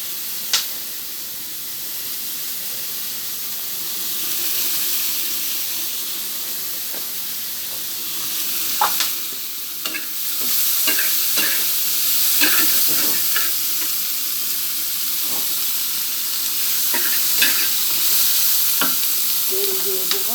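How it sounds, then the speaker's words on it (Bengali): Chilies sizzle steadily in hot oil while being stirred, a loud continuous frying hiss with occasional scraping clicks of the utensil, up close and without talk. "এবার মরিচ আর তেল দিয়ে দেব।"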